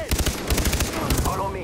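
Rapid bursts of automatic gunfire in a video game, with loud, close, stuttering shots that come in quick clusters and a faint voice running underneath.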